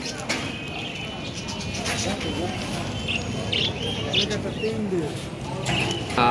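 Pigeons at a busy pigeon market in Chuadanga district give scattered coos and chirps beneath a steady crowd murmur and people talking throughout.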